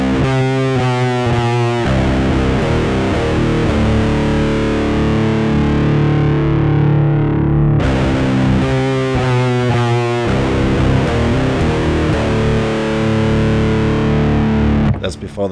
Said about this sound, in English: I'm gonna switch to a sound with distortion.